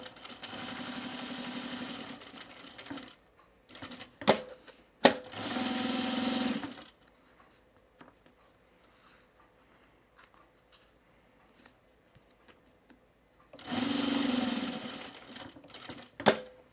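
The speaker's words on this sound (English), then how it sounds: "All right, I'm gonna top stitch this." A sewing machine topstitches a bag in three loud, steady runs of rapid stitching separated by pauses with light clicks and handling, close and with no talk.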